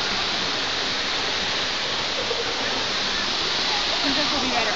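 Waterfall in Ulsan, South Korea: a steady, loud, full-band roar of falling water with no break, close and continuous throughout.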